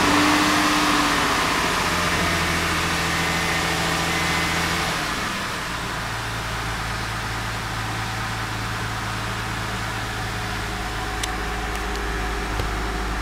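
A Honda Odyssey engine idles at around 1100 RPM after its idle control valve was cleaned, a steady low hum with a slight dip in pitch partway through, close and continuous without speech.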